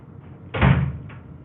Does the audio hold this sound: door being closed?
yes